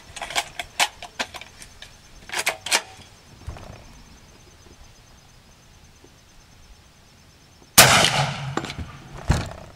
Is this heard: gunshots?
yes